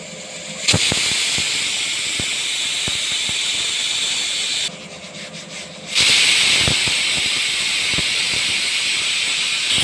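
Onion, green chili and curry leaves crackle and sizzle loudly in hot oil for a tempering, a steady bright hiss with popping spikes that dips briefly midway, then surges back louder.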